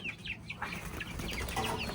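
Chickens cluck in short bursts while wings flap nearby, quiet and close, with no talk.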